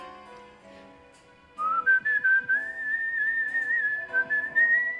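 A person whistles a melodic tune at the Great Whistle-Off contest in New York, a clear sustained whistle that begins partway in and carries on steadily over faint background sounds.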